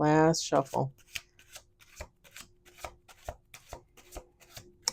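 A voice speaks briefly, then a deck of tarot cards is shuffled in a quick series of crisp riffling bursts, close and fairly quiet.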